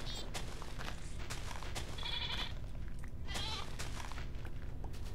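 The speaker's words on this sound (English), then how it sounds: "Hey, stupid goat." A goat in the Minecraft Technic modpack game bleats twice, short and clear, over a faint background hum with small clicks and game noises.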